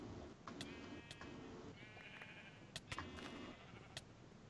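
Sheep in the video game Minecraft bleat repeatedly in a run of wavering calls, several overlapping at moderate distance, with sharp clicks between them and no talking.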